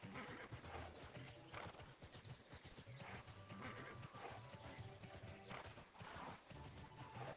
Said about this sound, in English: My horse sounds kind of excited, huh?